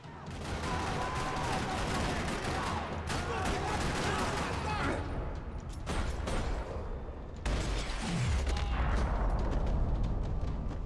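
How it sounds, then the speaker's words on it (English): Bursts of gunfire crackle repeatedly over a dense, noisy soundscape in the video game Max Payne 3, with sharp shots, a brief dropout, and a low swooping boom near the end. "Gunfire."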